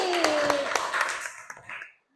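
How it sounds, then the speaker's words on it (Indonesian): Brief classroom clapping for a student during an Indonesian Islamic education lesson, a short burst of children's hands with a voice speaking over the start, dying out abruptly after about two seconds. "Iya, tepuk tangan buat tadi"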